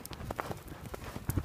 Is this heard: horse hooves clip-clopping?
yes